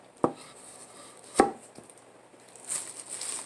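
Two sharp knife chops strike a cutting board close by, separated by quiet, then a soft rustling hiss with a small faint tap afterward; no voices.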